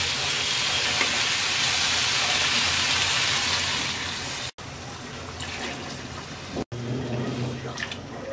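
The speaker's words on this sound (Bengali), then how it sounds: "ঝোলের জন্য দিয়ে দিচ্ছি 2 কাপ গরম পানি।" Two cups of hot water poured into a pan of sautéed turnip and sliced green chilies for a snakehead fish curry, giving a loud, steady rushing pour and sizzle that eases off midway into a quieter simmer.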